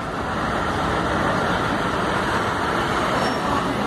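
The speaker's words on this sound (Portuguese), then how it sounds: "Hoje eu estou trabalhando com esse caminhão." An old small truck rumbles steadily in heavy road traffic, a loud continuous engine and road drone with no pauses.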